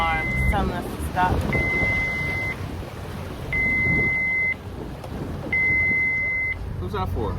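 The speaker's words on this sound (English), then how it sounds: "Stop alarm. It's telling us to stop." A mini speedboat's stop alarm beeps in repeated long, steady tones at regular intervals over wind noise and engine rumble, with people talking nearby.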